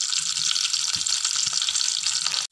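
Mustard seeds and curry leaves spluttering in hot oil, a close, steady crackling sizzle with rapid pops that runs unbroken before stopping abruptly.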